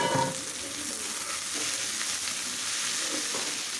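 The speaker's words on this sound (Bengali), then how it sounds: "ভাজিটা বাগার দিয়ে দিলাম," A vegetable bhaji sizzles steadily in hot oil as it is tempered, giving a continuous close frying hiss with a brief louder crackle at the start.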